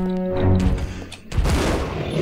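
Two heavy, booming Magnum shots fired in Resident Evil Zero during a boss fight against the Tyrant, each a loud close blast with a ringing tail.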